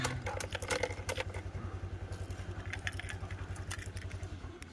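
A Honda Click version 3 scooter fitted with a two-way alarm starts and settles into a steady close idle, its low engine pulse running throughout with light clicks and rattles over the top and no talk.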